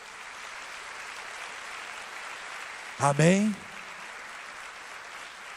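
A church congregation applauds during a Sunday worship service, a steady wash of clapping that runs throughout, briefly interrupted by a preacher's short spoken call.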